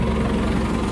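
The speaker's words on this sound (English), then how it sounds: "So I'm gonna get the tractor started" A farm tractor engine idles at a steady, loud, close low rumble with no talking.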